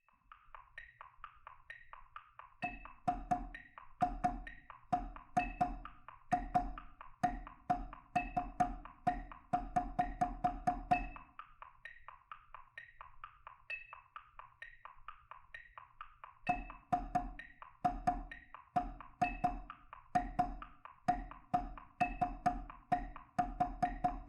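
A snare drum plays quick 32nd-note rolls, tied and untied, in crisp repeated bursts with accented downbeats and a pause between phrases, close and alone.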